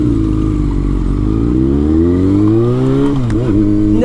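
A Yamaha FZ6 motorcycle engine runs loud and close, its throaty idle climbing into a smooth rev before dipping back down, with no talk over it.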